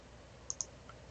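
Computer keyboard keys pressed twice in quick succession, sharp close clicks, then a fainter third tap in a quiet room.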